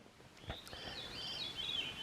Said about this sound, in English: That's a veery. That warbly sound.